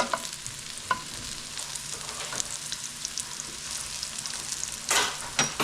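Mushrooms sear in a hot pan with a constant close sizzle, broken by occasional clicks and a louder burst of stirring near the end, and no voices.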